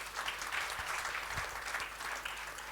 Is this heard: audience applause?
yes